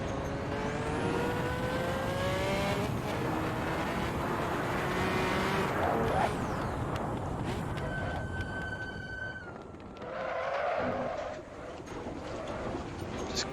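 Porsche 917/30 race car in the Assetto Corsa racing game, its loud engine climbing through the revs in rising sweeps, shifting gears, then easing off and burbling on a lift before revving again.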